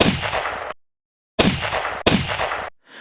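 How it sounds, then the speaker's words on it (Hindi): Three loud pistol shots ring out close by, each a sharp burst with a long decaying tail, the first alone and the last two in quicker succession. "तुमने सीधा उस जानवर की आंखों पर लगातार 3 गोलियां दाग दी।"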